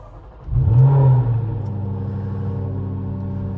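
Jaguar F-Type SVR with a supercharged 5-litre V8 firing up: a brief starter whirr, then a loud flaring roar that quickly drops to a deep, steady, rumbling idle held at slightly raised revs.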